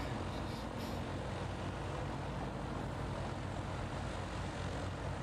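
Steady propeller aircraft engine drone in a crossplay survival game, a continuous loud broadband roar with low rumble filling the whole stretch, no voices over it.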